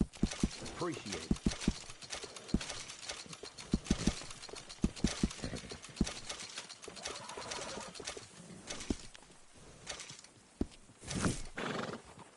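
Horse hooves clip-clopping in Red Dead Redemption 2, a string of close, sharp hoof knocks in uneven bursts, with a horse's whinny and soft bird cooing in the background.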